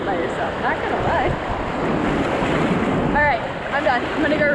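Ocean waves wash and churn around a lone swimmer at a beach, a continuous close, loud rush of water buffeted by wind noise, with a few faint high squeaky calls in the background.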